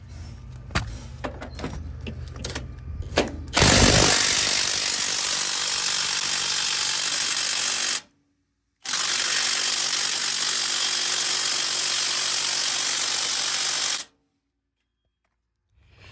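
A heavy power tool loosens power steering bolts on a 1980–2006 Jeep, first with short clicks and rattles, then a loud, sustained, close mechanical whir in two long runs separated by a brief stop.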